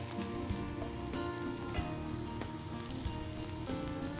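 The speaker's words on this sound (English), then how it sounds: "let the wontons get nice and brown and crispy. All right, here we go, right into the fryer." Apple wontons deep-frying in hot oil in a deep fryer give off a steady, even bubbling sizzle with small crackles and pops throughout, close and with no talking.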